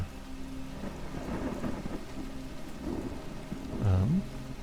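Rain patters steadily in the video game Soulmask while low thunder rumbles underneath, swelling into a louder roll near the end.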